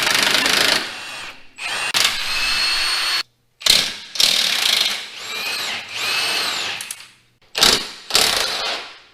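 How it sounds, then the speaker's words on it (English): Bolts on the radius rods of a Polaris RZR 1000XP are turned out with a powered socket tool. Several loud mechanical bursts of whirring and ratcheting come up close, separated by short pauses. "We'll go ahead and take this bolt and that bolt, and we'll go ahead and remove this side of the radius rods."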